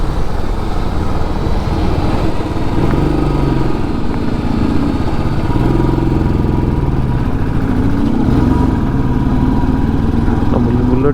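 A Royal Enfield Bullet motorcycle climbs a winding hill road with many hairpin bends, its engine thudding steadily and loud throughout, close up, with faint wind and road noise.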